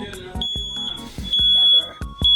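A newly installed house smoke and carbon monoxide alarm blares a loud, piercing high-pitched tone in repeated bursts, close up, with thumping knocks and some speech mixed in.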